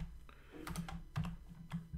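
Keys tapped on a computer keyboard while typing into a spreadsheet, a few quick close clicks in an irregular rhythm with no voice.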